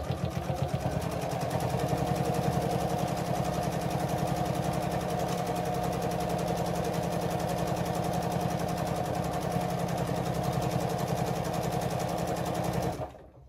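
A sewing machine runs steadily under foot-pedal control while a crazy quilt is stitched. It whirs with a fast, even mechanical chatter for about thirteen seconds, close and continuous, then stops abruptly.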